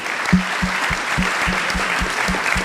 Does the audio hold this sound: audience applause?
yes